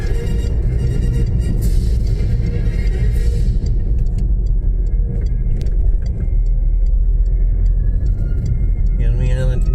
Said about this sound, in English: now we're on the A91. We're accelerating onto the carriageway